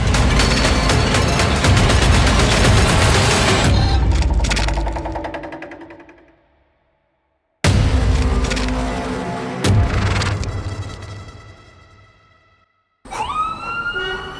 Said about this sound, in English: Gunshots ringing in the night